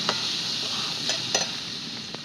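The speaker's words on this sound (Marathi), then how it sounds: "आता परत थोडस परतून घ्या" Food being stir-fried in a pan gives a steady soft sizzle broken by a few light scraping stirs, heard close with no talking.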